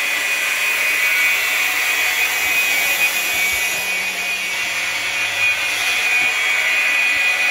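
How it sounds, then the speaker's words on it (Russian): An Abyssinian well is drilled in a garage cellar, giving a loud, continuous high-pitched whine and grinding from a power drill with steady intensity and a few faint knocks, close up, with no talking. "Начинаем забуриваться."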